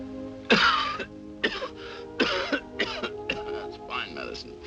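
A man coughs and clears his throat in a series of rough, wet hacks, four or five close bursts spaced about a second apart over a low background hum.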